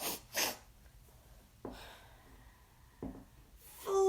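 Children imitate a hippopotamus snorting, giving several short, breathy nasal bursts spaced a second or so apart, fairly close with quiet pauses between them.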